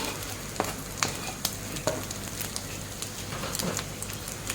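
Dill leaves tossed into a hot pan and stir-fried, giving a steady close sizzle broken by sharp scraping clicks of a spatula against the pan every second or so, with no voices.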